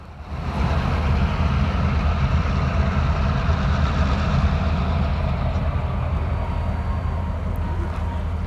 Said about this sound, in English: yard jobs and road trains alike are still shuffling through the yard classifying cuts of rolling stock